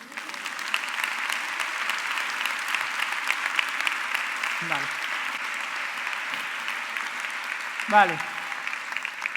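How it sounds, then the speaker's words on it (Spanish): Steady audience applause fills a literary talk, sustained and even throughout, with a brief spoken word near the start and a couple of faint voice fragments over the clapping. "darle un aplauso"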